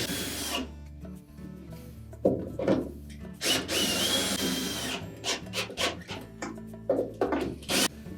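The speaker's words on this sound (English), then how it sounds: "we'll just thread these shoulder bolts in part way" Shoulder bolts threaded into the basket hub of a Whirlpool washer during a suspension repair, close intermittent metallic scraping and rubbing in short bursts with brief pauses, no talking.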